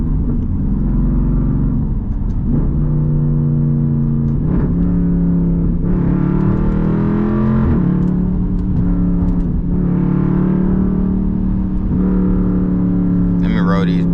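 A straight-piped SRT Jeep engine drones loud and close from inside the cabin in morning traffic, rising and falling in deep, throaty swells as the throttle is worked, with a steady low rumble throughout.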